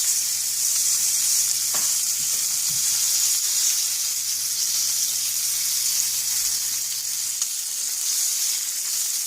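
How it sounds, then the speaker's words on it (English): A pork chop stood on its fat edge in a hot pan sizzles steadily, a bright constant frying hiss close by, with a few faint clinks and no speech. "So I'm flipping it up onto the fat edge."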